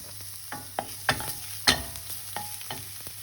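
Garlic fries in oil in a pan, making a soft sizzle punctuated by a series of crisp pops and scrapes at irregular intervals, fairly quiet and close.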